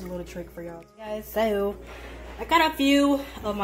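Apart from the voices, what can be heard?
None of the usual background noises is heard.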